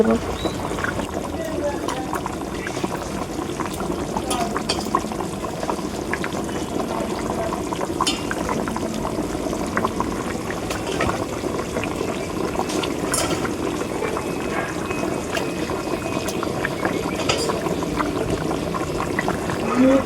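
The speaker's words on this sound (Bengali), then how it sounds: "জলটাকে ফুটতে দেব জলটা ফুটে গেলেই কিন্তু আমি মাছটাকে দিয়ে দেব" Water boiling in a cooking pot before tilapia fish are added, a steady bubbling and simmering wash that runs continuously under a person talking throughout.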